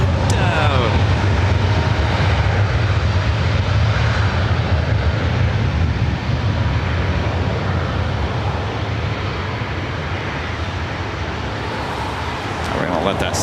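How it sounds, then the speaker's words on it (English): A Delta Airbus A321 jet taking off from a runway at LAX, a loud low engine roar that builds and holds, with a voice talking over it. "Turn and burn action for this Delta A321 heading to Motown."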